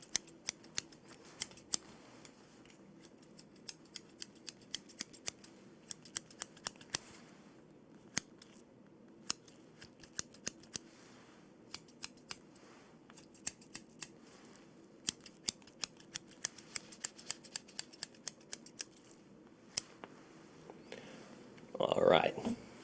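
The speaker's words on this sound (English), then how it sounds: "a little haircut, a little trim." Scissors trimming hair in a close ASMR haircut roleplay: crisp, near snips in irregular bursts throughout, with a brief rustle at the end and no talk.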